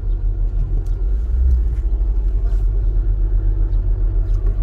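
A car engine rumbles low and continuous on a city street in Enugu, with a throbbing, steady idle close by and no talk over it.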